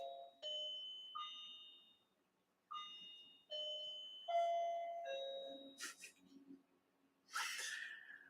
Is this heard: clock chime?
yes